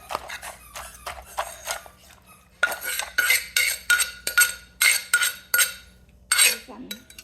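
A wooden pestle pounds green papaya salad in a mortar with sharp, rhythmic knocks that grow louder and more regular in the second half. Faint clinks sound between the strikes, and no one talks.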